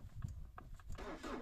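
A car with a frozen engine cranks in the cold, trying to start. A few uneven starter turns chug faintly before a rougher, brighter churn that does not catch.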